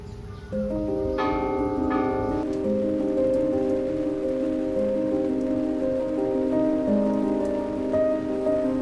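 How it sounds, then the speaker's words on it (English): Steady rain falls at Hiroshima's Atomic Bomb Dome, a continuous close patter throughout, with sustained ringing tones sounding over it. "This morning, I'm out in the rain at the Atomic Bomb Dome"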